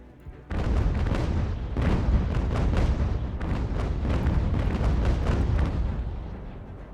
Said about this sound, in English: now we'll shoot this guy and try to blow up his canister